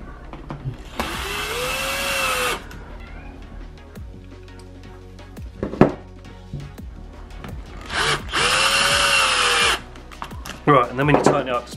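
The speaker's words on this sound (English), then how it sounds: "after you tighten it up with the drill" A power drill on its weakest setting whirs in two loud bursts, winding up and slowing as it tightens skateboard wheels, with clicks and handling noises between.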